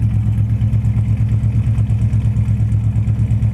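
A 1967 Chevelle Super Sport with a frame-off restoration idles through dual exhaust, a close, steady low rumble with an even pulsing beat throughout.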